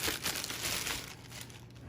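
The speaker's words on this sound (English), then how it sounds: "So we pop this guy out of the plastic bag." A plastic bag crinkles and rustles up close as an aquarium fish food feeder is pulled out of it, crackling irregularly for a couple of seconds, then easing off.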